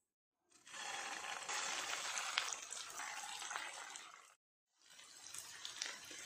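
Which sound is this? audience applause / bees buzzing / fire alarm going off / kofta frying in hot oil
kofta frying in hot oil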